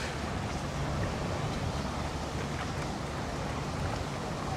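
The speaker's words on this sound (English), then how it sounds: "as we get closer and closer to the water, like down here, it just gets really windy" Steady roar of strong wind buffeting the microphone near the shore by New York City's High Line, with a broad rush of surf-like noise underneath, constant and loud throughout.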